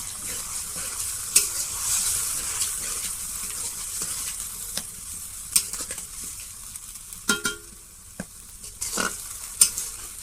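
Banana blossom curry with ground cumin, coriander and garam masala paste being stirred and fried dry in a pan: a steady close sizzle with intermittent scrapes and clinks of a spoon against the pot, no talking.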